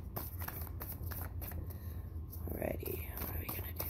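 Tarot cards are shuffled close up in soft, quick riffling bursts, with faint whispering in the background.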